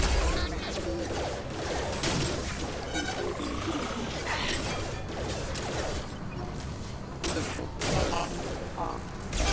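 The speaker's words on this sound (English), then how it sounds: "Taking heavy fire!" Gunfire and impacts rattle through a firefight in the video game Mass Effect 2, dense and continuous with bursts, crashes and whooshes, while game voices call out over the combat.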